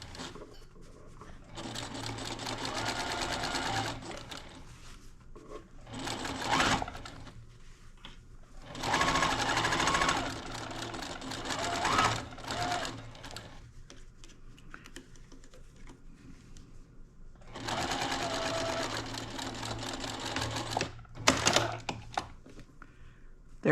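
A home sewing machine stitches a straight, backstitched seam on a fabric wine gift bag, running in three loud bursts of rapid needle clatter with quieter handling and pauses between them.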